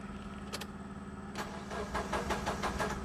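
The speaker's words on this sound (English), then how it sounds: "I'll just crank the engine" A Mazda 6 engine cranks over while its fuel pump is being tested, with a few short clicks followed by a rapid rhythmic churning of the starter that grows louder and keeps cycling.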